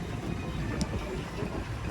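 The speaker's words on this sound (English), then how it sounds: "Miniature engines." Miniature steam engines run at a steam fair in Sheffield, heard as a steady broadband hiss and rumble with a brief sharp click, moderately distant, with no talk.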